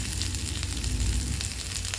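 Capsicum and chillies sauté in oil in a pan for a chutney, giving a steady, close sizzle that holds level throughout with no voices.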